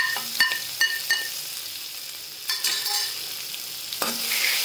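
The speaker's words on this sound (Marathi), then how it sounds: "तेलामध्ये परतून घ्यायचं चांगलं।" Ground spice paste with curry leaves and asafoetida frying in hot oil in a kadhai, a bright steady sizzle broken by several sharp stirring clinks and scrapes.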